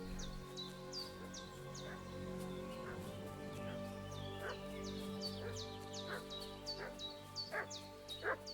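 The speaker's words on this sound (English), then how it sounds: "What's that dog making such a fuss about?" A dog barks repeatedly at a distance in a village scene of the game Kingdom Come Deliverance II, faint and irregular, with bird calls and a low ambient hum around it.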